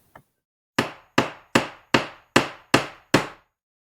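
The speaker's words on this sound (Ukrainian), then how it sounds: "і став стучати по тачці. Тук-тук-тук, тук-тук-тук, тук-тук-тук." Knocking on a wheelbarrow: seven sharp, evenly spaced hard knocks ring out close and loud in a quiet room, after one faint tap.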